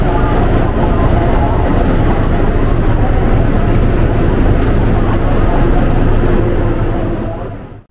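The Howrah–Ranchi Shatabdi Express, an LHB-coach premium train, arriving at a station with a loud, steady rumble and roar of rolling wheels, fading out at the very end.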